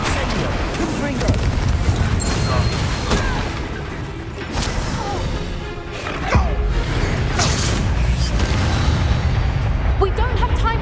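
Explosive Confringo spell cast in the video game Hogwarts Legacy, with booming blasts and crashing impacts in a dense, loud battle mix that runs throughout, along with game dialogue and commentary.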